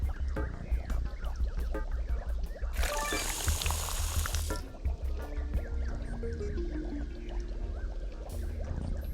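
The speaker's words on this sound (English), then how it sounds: "A faucet. No sink is complete without one of these." Water running from a faucet in an Adventure Time video game, a bright hissing gush lasting about two seconds amid soft game effects and quiet musical tones, moderately loud and close.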